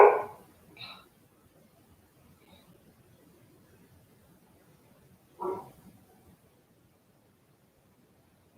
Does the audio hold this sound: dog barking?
yes